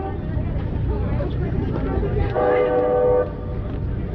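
A train passes during a Portland street protest, its horn blaring for about a second over continuous rail rumble and crowd noise, with people talking and shouting throughout.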